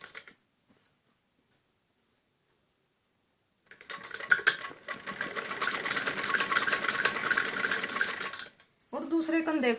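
After a few seconds of near silence with faint taps, a sewing machine stitches the shoulder seam of a kameez in a steady close whir for about five seconds, followed by someone speaking briefly.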